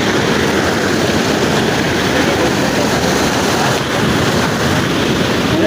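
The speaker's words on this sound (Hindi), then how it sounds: "ये देखें झरना" A waterfall rushes in a continuous, loud, broadband roar that stays steady and dense throughout, with no voices over it.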